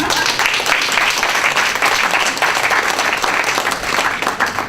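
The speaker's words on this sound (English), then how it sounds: "let's give him a round of applause" An audience at a diversity and inclusion week talk gives a round of applause, a loud, even wash of many people clapping throughout, with a faint voice underneath.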